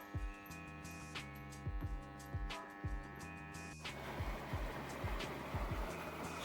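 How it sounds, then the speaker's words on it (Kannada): A submersible pump on a newly repaired automatic starter pushes out a six-inch stream of water; a humming tonal drone with rhythmic thumps gives way midway to a steady broad gush of water, fairly faint. "ಸ್ಟಾರ್ಟರ್ ರಿಪೇರಿ ಆಗಂತಲೇ ಈ ಪರಿ ಒಗ್ಯಾಗ್ತದೆ ನೋಡ್ರಿ."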